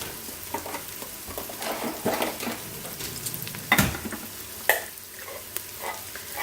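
Food sizzling in hot oil inside an Instant Pot while being stirred, a constant crackling hiss broken by a few clinks and scrapes of a utensil, with no voices.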